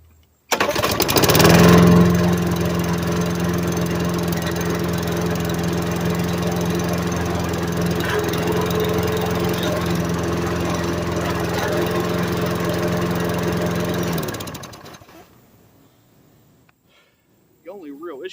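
Craftsman self-propelled gas lawn mower starting up and running with a loud, steady engine drone for about fourteen seconds, then cutting off and winding down into near silence.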